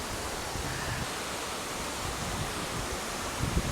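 Bayang Sani Indah waterfall at its third tier, a steady broadband roar of falling water filling the scene at close range, constant and unbroken with no voices.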